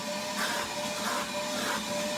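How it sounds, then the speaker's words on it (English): A vacuum runs with a steady whirring drone at a veterinary clinic while staff prep a dog's skin for surgery, loud and continuous throughout. "They're going to be doing the vacuum to prep the area"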